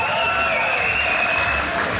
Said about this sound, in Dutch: Ja, dames en heren, mag ik een applaus voor deze twee strijders.